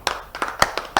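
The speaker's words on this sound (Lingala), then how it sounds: "Acclamez pour la parole du Seigneur." A congregation at an evening prayer meeting claps, about five sharp, separate hand claps spaced unevenly across a second, close and distinct.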